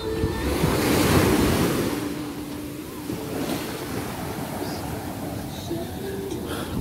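Surf rolls in at Ponta Negra beach in Natal, Brazil, a continuous wash of breaking waves with heavy wind buffeting the microphone, loudest early on and then steady.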